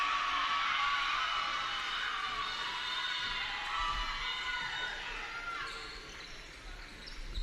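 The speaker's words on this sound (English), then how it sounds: "Jordan's got some family and friends in the crowd as they kind of erupted when she hit that three." A crowd at a women's college basketball game, BJU Bruins against Mid Atlantic Christian University, erupts in cheers after a three-pointer. The loud, sustained roar of voices gradually fades over several seconds.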